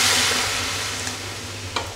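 Warm water poured into a hot pan of spiced potato and soybean curry, giving a close, loud hissing sizzle that slowly fades over two seconds, with a couple of faint clinks.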